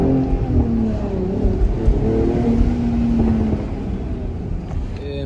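A Chevrolet Corvette C8 engine rumbles and revs nearby, a steady loud drone with rising and falling pitch and no talking.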